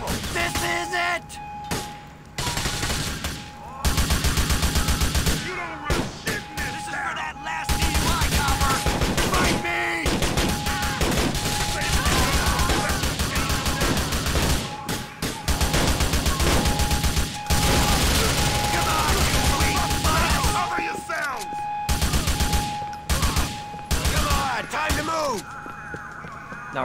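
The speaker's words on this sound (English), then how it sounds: "Yeah, I love this shotgun so much." Shotgun blasts and heavy gunfire in the video game GTA The Lost and Damned, with rapid, loud, dense volleys of shots running almost continuously over a busy game soundtrack, with a few short pauses.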